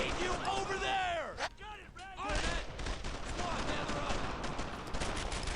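Bursts of .30 cal machine gun fire in the video game Brothers in Arms, mixed with other battle sounds, with someone talking over the gunfire.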